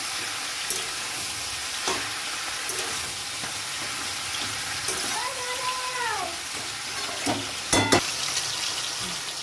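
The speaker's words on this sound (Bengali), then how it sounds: "এটা মাছের তেল, এইভাবেই ভেজে নেব" Fish oil, the fatty parts of fish, frying in a pan: a steady broadband sizzle throughout with occasional sharp clinks and scrapes, and a brief tonal squeak in the middle.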